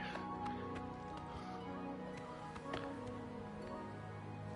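Horse hooves clip-clopping in the video game Oblivion, a steady run of soft repeated hoofbeats mixed with game sounds at moderate level.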